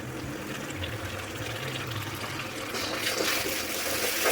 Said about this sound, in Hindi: अब डालेगी प्यूरी।